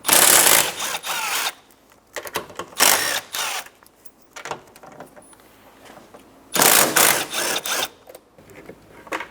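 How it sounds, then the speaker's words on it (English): A socket works the three 10mm nuts off a 2000-2006 Toyota Tundra side mirror in several loud, close bursts of buzzing, whirring tool noise, separated by brief quieter pauses. "Remove the 3 nuts for the side mirror using a 10mm socket."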